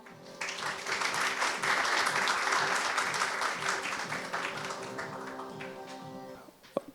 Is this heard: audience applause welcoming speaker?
yes